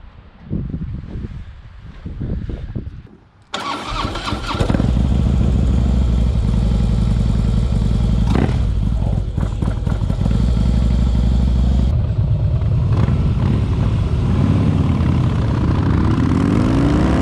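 A 2013 Harley-Davidson Softail Slim with a 103 twin cam engine is started after a few quiet mechanical clicks, catching abruptly into a loud, close, steady rumbling idle that continues throughout.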